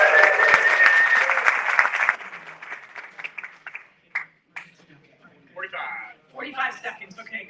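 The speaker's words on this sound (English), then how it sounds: "go and practice our applause one more time" A live studio audience practices its applause for a livestream show. A dense burst of clapping fills the first two seconds, then fades into scattered claps and voices talking.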